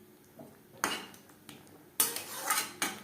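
A metal spoon clatters and scrapes against a pan while motor paneer curry of peas and paneer is stirred: a few sharp, close knocks spaced out, then a busier run of clinks.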